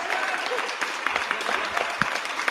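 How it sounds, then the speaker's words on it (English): Applause from a small live-stream podcast audience, a brief patter of clapping mixed with talk. "A round of applause for everybody that showed up"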